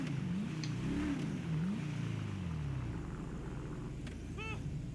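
A car engine in GTA 5 Online revs up and down in a low, rising-and-falling drone, close and steady, settling into a rumbling idle.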